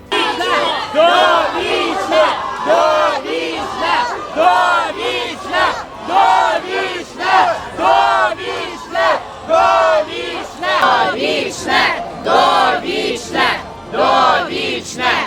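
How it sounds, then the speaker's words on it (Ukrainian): A large crowd at a memorial rally in Lviv chants slogans in loud, rhythmic unison, the shouted phrases repeating in regular bursts with brief pauses between them across the whole stretch. "Вигуки довічне і волю вже стали традиційними."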